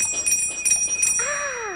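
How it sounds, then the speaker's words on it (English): A toy fire truck's bright metallic bell rings repeatedly in quick strikes, close and clear, then a higher electronic tone sweeps in at the end. "The fire truck ringing its bell."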